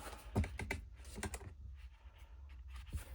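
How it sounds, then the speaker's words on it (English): Scissors snip through paper while a paper quilt block is cut out, a quick cluster of soft, crisp cuts up close, followed by fainter rustling and one more snip. "All right, let me snip this baby off."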